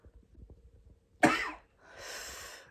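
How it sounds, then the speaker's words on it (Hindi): A person with a bad, harsh cough, one loud sudden bark after soft breathy sounds, followed by a rasping throat-clearing exhale, close and alone. "इसको खांसी बहुत आ रही है गंदी, कुत्ता खांसी"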